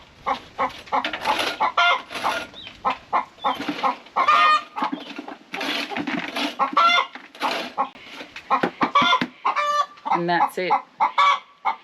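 Backyard chickens in a tropical Far North Queensland yard with a crushed-limestone floor cluck steadily and busily, close and fairly loud, with brief human talk mixed in near the end.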